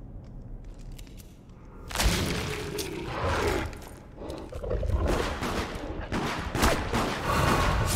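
Video game firefight with bursts of rapid gunfire and heavy blasts erupting after a quieter stretch, loud and continuous through the rest, with background game effects layered beneath.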